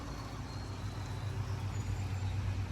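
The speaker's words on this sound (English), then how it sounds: "we do live in a town, so you will hear cars going by now and again" Road traffic passes through a town beyond a garden, a faint, distant low whoosh of cars that swells gradually and keeps going without any talk over it.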